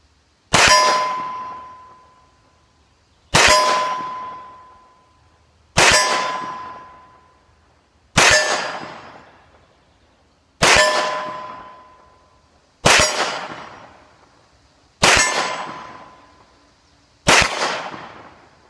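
A Sig Sauer P220 10mm fired at AR500 steel targets: eight sharp shots spaced about two and a half seconds apart, each followed by a ringing metallic clang that fades out.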